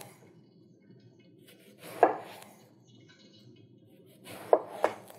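A knife slices aubergine into thick pieces on a board, giving two separate bursts of close cutting with crisp thuds as the blade meets the board, set apart by quiet pauses.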